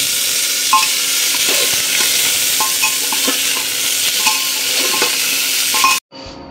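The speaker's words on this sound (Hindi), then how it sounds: "तेल गरम हो गया था, उसमें डाला गया तेजपत्ता, और डाल दिया गया गोभी।" Steady loud sizzling of cauliflower and bay leaf frying in hot oil, with occasional stirring clinks and scrapes, cutting off abruptly near the end.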